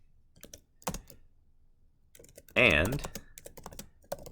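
Someone types on a computer keyboard in short clusters of crisp key clicks, with quiet gaps between bursts and a spoken word partway through.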